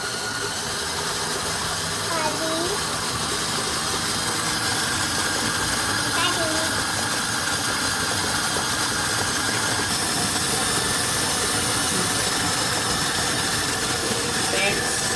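Electric mixer whisking cream for a black forest cake, a steady whirring motor drone close by with a faint chirp of the whisk, under occasional talk.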